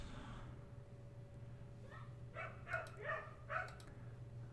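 Dogs bark outside, several sharp yaps in a loose cluster heard faint and distant over a steady low hum.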